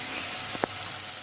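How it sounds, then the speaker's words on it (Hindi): Onions fry slowly in a pan for chaulai bhaji, a quiet, steady sizzling hiss broken by one brief crackle near the middle. "इसको हम धीरे धीरे ब्राउन होने तक फिर भूजेंगे प्याज को"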